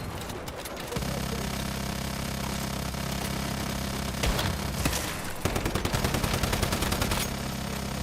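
Rapid bursts of Gatling gun fire from a video game, dense rattling volleys that start and stop over several seconds, loud and close with a steady mechanical drone underneath.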